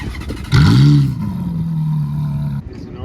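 A Ferrari F430 engine blips and revs loudly, then settles into a steady high idle drone before cutting off.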